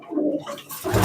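Competition pigeons in a pigeon loft give low, throaty cooing up close, with a burst of rustling noise toward the end.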